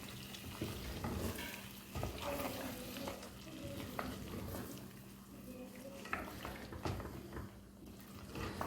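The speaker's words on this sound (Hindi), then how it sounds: "हिला लेंगे इसको." A spoon stirs curd into a frying Hyderabadi mutton korma masala in a pan, giving a steady soft sizzle with scraping strokes against the metal, while a person talks quietly over it.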